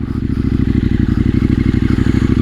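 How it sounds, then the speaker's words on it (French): A motorcycle idles close and loud with a rapid, pulsing exhaust beat and some irregular pops and crackles from the pipe, with no talking. "l'échappement il pétarade un peu"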